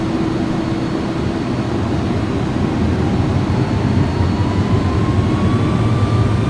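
Jet engines of an Airbus A300-600R leveling off on approach in the X-Plane 11 flight simulator, a steady, loud drone of low rumble and whine with a slowly rising tone.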